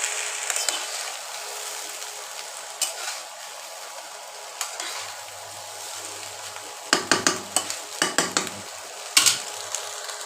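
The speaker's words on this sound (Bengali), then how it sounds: "এবার পটলগুলো এর ভেতর দিয়ে দেবো।" Chicken-stuffed pointed gourds go into a pot for pulao, a soft steady sizzle under a few sharp metallic clatters and bursts of scraping as a utensil knocks against the pot.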